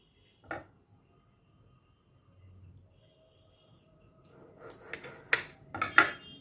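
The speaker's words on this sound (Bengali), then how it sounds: "টমেটোগুলো 2 আধখানা করে দিচ্ছি।" Tomatoes are cut in half with a knife: a single sharp knock early on, then after a quiet stretch several quick clicks and taps of the blade against a board and dish, close up.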